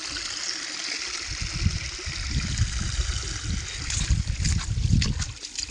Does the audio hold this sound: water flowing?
yes